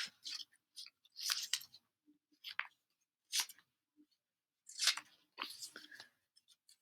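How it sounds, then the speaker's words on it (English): Scissors cutting single paper units off a strip of ten: crisp, close snips in short irregular clusters, separated by silent pauses. "As I'm cutting each individual one off."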